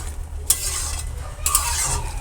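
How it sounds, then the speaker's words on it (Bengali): Bottle gourd curry with sugar stirred in a pan, a soft continuous scraping and light sizzle with two sharper utensil clinks against the pan, close and steady. "চিনিটা দিয়ে লাউটা একটুখানি নেড়ে চেড়ে নিচ্ছি"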